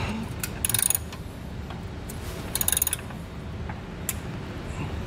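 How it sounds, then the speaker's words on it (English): Ratchet wrench tightening a bolt on a Blue Ox base plate being installed on a 2021 Subaru Crosstrek, two short bursts of rapid clicking close up, with quieter ticks between. "I'm going to go ahead and tighten this down"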